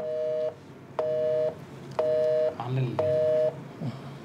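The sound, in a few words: telephone tone heard during call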